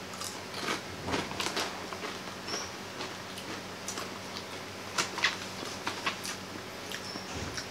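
Crunchy seaweed-flavoured potato chips being bitten and chewed, giving scattered crisp crackles and snaps at close range over a quiet background, with no talking.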